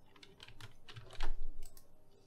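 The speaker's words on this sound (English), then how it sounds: "Now we're just going to type a new text." Computer keyboard typing while building a top-down zombie shooter game in Scratch: a short, close run of quick key taps with a slightly louder cluster near the middle.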